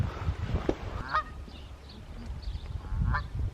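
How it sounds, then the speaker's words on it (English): Geese honking near a Snowdon campsite, several short nasal calls spaced across a few seconds over low background rumble. "Hey, goose."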